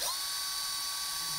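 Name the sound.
drill bit drilling holes in a safe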